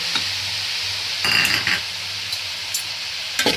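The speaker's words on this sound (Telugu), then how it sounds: "వేసి వీటిని బాగా ఫ్రై చేసుకోవాలి" Mushrooms fry in a pan with salt and turmeric for a mushroom biryani, a soft steady sizzle broken by a few scraping stirs and utensil clinks close by.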